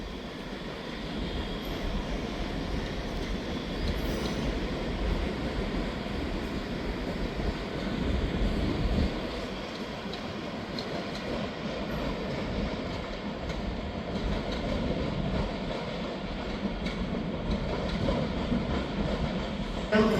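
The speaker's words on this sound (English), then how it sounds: "Arriving in now is the 12:35 Scotrail service terminating here at Edinburgh Waverley from Glasgow Queen Street." A ScotRail passenger train from Glasgow Queen Street pulls into Edinburgh Waverley station, where it terminates. It makes a loud, continuous low rumble with faint rail clatter that holds steady without a break, and no one talks over it.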